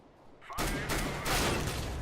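Rapid AK rifle gunfire in a tactical shooter video game: a dense, loud burst of shots starts abruptly after a quiet moment and continues steadily to the end.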